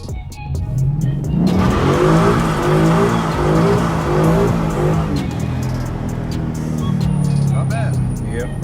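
A Ford Mustang GT street drifting roars loudly up close, its engine revving hard while the tires screech and squeal through a long slide, then the engine eases off toward the end.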